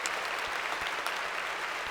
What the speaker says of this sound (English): Let's give a round of applause to Laura, our MC